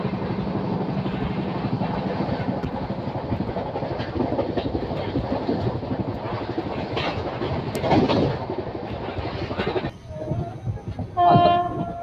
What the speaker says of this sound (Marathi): बघूया आता त्या फ्रेंट ट्रेनला कुठली गाडी ओव्हरटेक करते.